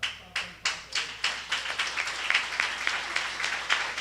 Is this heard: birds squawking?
no